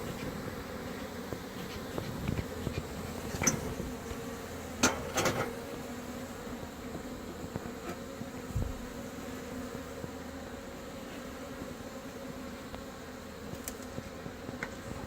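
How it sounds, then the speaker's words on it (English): A faint, continuous buzzing of many honey bees in a hive during queen cell removal hums in the background, with occasional soft knocks and taps breaking through. "bees up in there"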